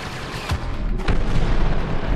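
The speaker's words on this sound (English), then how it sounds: "Pop a grenade up there" Grenade blasts in Star Wars Battlefront, a video game: two loud booming explosions about half a second apart, followed by a rumbling, noisy tail.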